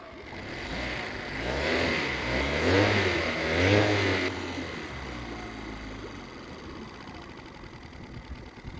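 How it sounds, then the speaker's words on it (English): A 2014 Yamaha 9.9 hp carbureted outboard motor revs up with a swelling, sweeping whine, then drops back to a steady, quieter idle that runs on to the end. "Revving up, idling down."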